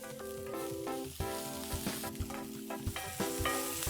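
Onions frying in a pan with salt, tossed to turn golden brown, giving a steady close sizzle with bursts of crackle and clattering toss sounds, no speech.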